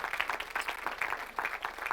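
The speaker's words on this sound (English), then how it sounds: "Let's give it a round of applause" Applause from a keynote audience at the close of a talk, steady moderate clapping that pulses unevenly across the whole stretch with no voices over it.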